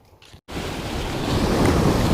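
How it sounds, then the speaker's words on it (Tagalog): Strong ocean waves roll and break on a rocky shore during shore fishing, a steady loud surf roar swelling after a brief pause, with wind buffeting the microphone. "Medyo malakas yung alon."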